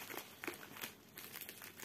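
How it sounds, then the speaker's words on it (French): Tape being peeled off a package during an unboxing: faint, close crinkly tearing and rustling in short bursts. "on va prendre ici pour déscotcher"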